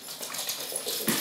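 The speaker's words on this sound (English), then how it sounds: "Sorry about my dog." A dog indoors gives a short run of whining, whimpering cries, fairly close and steady in volume, with no one speaking.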